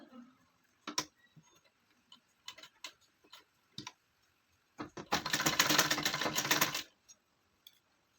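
A sewing machine stitches the back side of a small gown for a three-year-old child, running in one loud, dense burst of about two seconds after scattered light taps and clicks.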